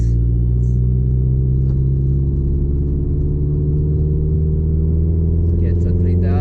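A Mazdaspeed car engine running on a tuned setup, a loud, steady low drone with a deep rumble that holds at a constant level, heard close from inside the car with faint voices over it.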